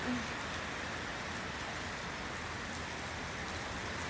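Steady rain pours down continuously, a dense even hiss of drops hitting surfaces with no gaps throughout.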